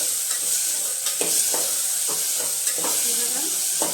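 Chopped tomato and potatoes being stirred into Maggi noodles in a pan, a continuous soft sizzle broken by repeated scraping strokes of a spoon, no voices.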